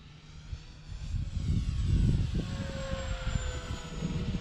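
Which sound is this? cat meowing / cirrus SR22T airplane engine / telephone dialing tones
cirrus SR22T airplane engine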